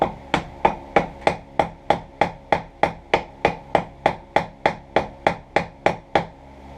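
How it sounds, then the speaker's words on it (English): Steady hammer peen blows ringing on a metal survival knife, about twenty sharp strikes at an even pace, each with a short bright ring, close and loud with no talk. "Take the peen of the hammer."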